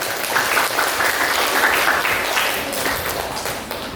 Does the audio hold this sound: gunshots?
no